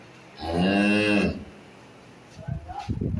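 A single long, loud moo from a dairy cow, low and droning, lasting about a second, followed by quieter rustling and shuffling noises.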